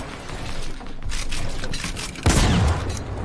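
Rocket fire in a Fortnite-style battle royale game, with a muffled ongoing barrage and then a loud, close whooshing blast with a booming low end partway through.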